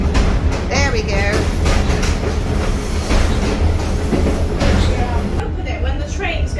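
A train runs on rails through the Hungarian countryside with a loud, continuous rumble and rattle, steady clatter and faint squealing, while people talk over it.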